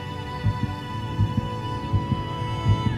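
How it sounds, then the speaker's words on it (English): A human heartbeat throbs in soft, regular double thumps, about one beat every three-quarters of a second, over a low steady hum. "to show your heart beating."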